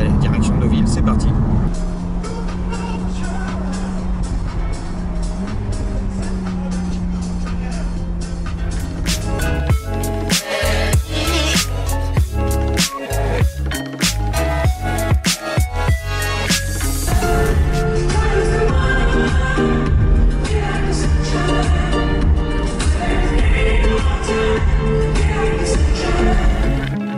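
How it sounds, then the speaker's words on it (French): A BMW Z4 six-cylinder engine drones and revs while driving with the top down, a loud sustained hum with shifting pitch and wind noise, mixed with people talking. "le son du 6 cylindres"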